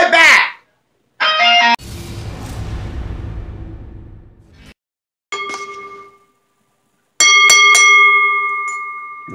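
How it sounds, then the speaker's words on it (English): Ringing bell at a televised professional wrestling match, several bright metallic dings in two bursts, preceded by a loud crowd-like roar that fades out. "the match, the bell ringing"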